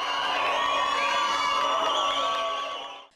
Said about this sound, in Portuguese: E a torcida aqui comemora.